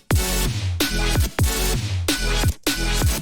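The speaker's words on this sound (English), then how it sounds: "you're hearing the auto filter frequency kind of come back through on this chord" A synth chord repeated in a steady pumping rhythm, with an auto filter sweeping its brightness on each hit and a deep thump under every attack, loud and close.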